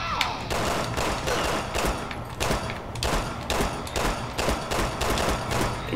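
Gunfire from Resident Evil 6 rings out in a rapid series of sharp shots, grouped into rough rhythmic bursts as if tapping out the Super Mario Bros. theme, loud and close with no talking.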